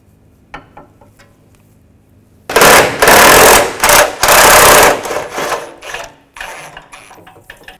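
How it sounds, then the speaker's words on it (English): Ratchet on a long extension spinning nuts off the exhaust flange studs of a 2005-2010 Chevrolet Cobalt, loud close rapid clicking in a few sustained bursts after quiet taps, with no talking. "going to take the bolts or the nuts off the exhaust flange up here"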